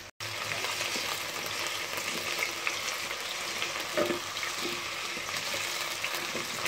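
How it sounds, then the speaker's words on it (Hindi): Potatoes fry in a pan of oil with a steady, close, moderately loud sizzle, punctuated by a few brief stirring knocks, and no talking. "सबसे पहले मैं फ्राई करूंगी आलू"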